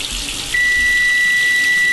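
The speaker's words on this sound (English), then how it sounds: "Rinse off the bacon with a nice cool water." Running tap water splashing loudly into a sink while rinsing bacon, steady and close, with a thin high whine starting partway through.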